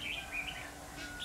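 Red-whiskered bulbul in a trap, giving several short bright chirps over faint background hum, fairly close but quiet; no talking.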